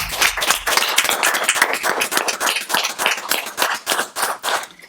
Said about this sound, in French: Et je pense que ça mérite un applaudissement